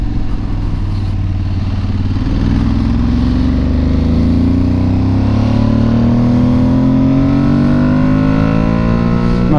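An Aprilia Tuareg 660 motorcycle pulls hard in third gear, the engine note climbing steadily as revs build, loud and close, with a strong rising whine layered over the exhaust drone and no talking.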